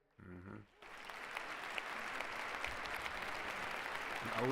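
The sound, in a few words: applause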